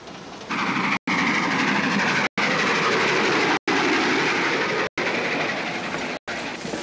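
A train in a 1946 Sherlock Holmes film rolls along the rails with a loud, constant rumble and rhythmic clatter, broken by short sharp gaps about every second.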